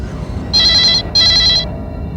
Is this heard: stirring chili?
no